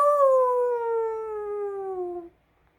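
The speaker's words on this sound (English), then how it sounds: "His mouth opened and a long howl rose toward the moon." A wolf howls in one long, loud, clear tone that slides slowly downward and stops cleanly after about two seconds, with nothing else heard.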